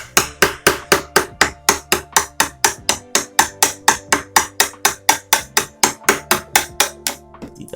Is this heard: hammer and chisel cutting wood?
yes